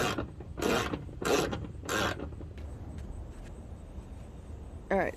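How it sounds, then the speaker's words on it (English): An Allen wrench tightens a new hood latch on a Jeep with three loud rasping ratchet-like turns close by, then softer metallic clicks and a brief squeak at the end. "So I'm going to Allen wrench in the top section"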